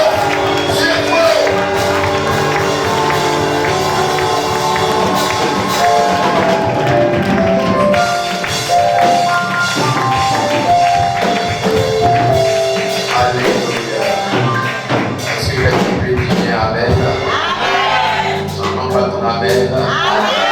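A church congregation cheers and acclaims loudly and steadily throughout, with clapping and whoops over music-like tones during a deliverance and restoration service.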